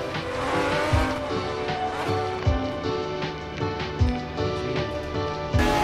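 In the game Midnight Racing, a car engine roars while the car drifts, tires squealing in repeated bursts as the revs rise and fall, with no voices over it.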